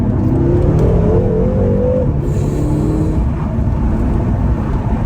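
A BMW F13 M6 pulls hard in second gear, its engine a loud, steady roar with a pitch that climbs and then levels off, heard from inside the car with no talking.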